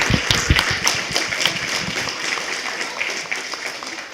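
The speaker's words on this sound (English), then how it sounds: "If we can give a big round of applause to all the students who worked so hard over the last 3 months" Students at a fall STEM showcase are honored with a round of applause from the audience, claps spiky and loud at first, then thinning into a softer, steadier patter as it continues.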